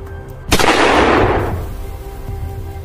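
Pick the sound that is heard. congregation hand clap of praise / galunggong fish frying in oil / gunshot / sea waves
gunshot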